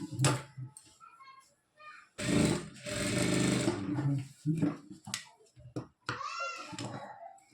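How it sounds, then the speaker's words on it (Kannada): A sewing machine stitches along the edge of a lehenga blouse, running in short and longer bursts of rapid mechanical chatter, with someone speaking between runs. "ಇದ್ರ ಇವಾಗ ಎಡ್ಜ್ಗೆ ಸ್ಟಿಚ್ ಹಾಕೊಂಬರೋಣ"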